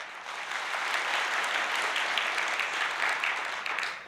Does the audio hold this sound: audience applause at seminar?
yes